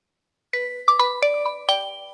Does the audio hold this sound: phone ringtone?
yes